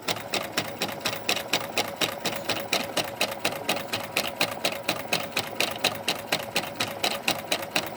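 A Juki HZL-F400 sewing machine runs steadily, its needle tapping in a fast, even rhythm of rapid clicks and a mechanical whir, close by with no talking.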